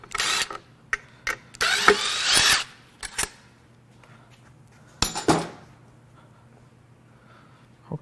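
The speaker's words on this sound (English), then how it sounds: "Let's get all these bolts out of here." Hand tools work loose bolts from a Mercedes 5.8L V12 M137 engine during a teardown. Sharp clinks and rattling bursts of metal come close by, then pause, then a final clatter.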